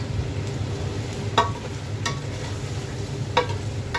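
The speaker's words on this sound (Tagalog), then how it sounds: "haluin lang natin para kumapit yung patis, yung lasa ng patis sa ating pagluluto" Papaitan with fish sauce being stirred in a cooking pot, a low continuous simmering sizzle broken by a few sharp clacks of the utensil against the pot.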